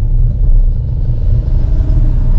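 A car engine drones loudly as a learner driver accelerates in fourth gear on the road, a steady deep rumble with a constant road roar that never lets up.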